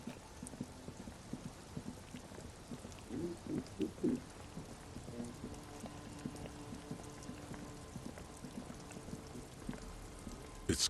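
Steady rain falling in the video game Disco Elysium, a soft continuous patter of drops with occasional louder taps, moderately quiet and ambient throughout with no talking.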